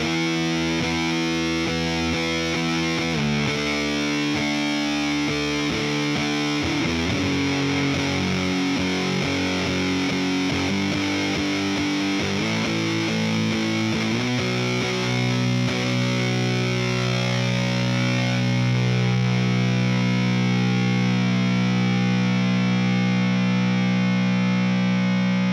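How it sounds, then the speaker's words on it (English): Electric guitar played through a Bighorn Fuzz pedal, a Big Muff Ram's Head–style distortion, gives thick, sustained fuzz chords that shift every few seconds and end on one long ringing chord, loud and steady with no talking. "Distortion effect inspired by the classic Electro Harmonix Big Muff Pie Ram's Head model"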